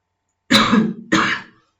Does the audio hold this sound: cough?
yes